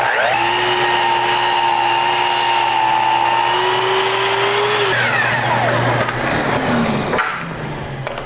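A power saw cuts through a workpiece held in a toggle clamp fixture, giving a loud, steady whining drone that holds for several seconds, then winds down and fades as the cut finishes.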